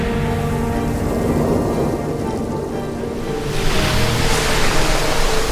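Rough storm waves surge and crash against a small boat, a loud, churning wash of water with a deep rumble beneath it that swells into a heavier surge toward the end.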